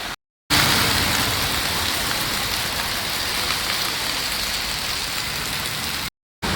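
A heavy downpour roars as a dense, constant wash of rain on surfaces, loud and close, with brief dropouts at the very start and near the end.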